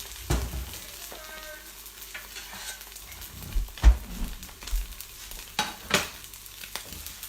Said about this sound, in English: Give these a stir so we don't burn on the bottom.